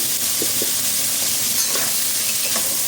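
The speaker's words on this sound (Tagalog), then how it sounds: "Haluin muna sandali natin ang gulay at ang scallop" Vegetables and scallop sizzle steadily in a hot pan as they are stir-fried, a loud continuous hiss with soft scraping stir sounds every so often.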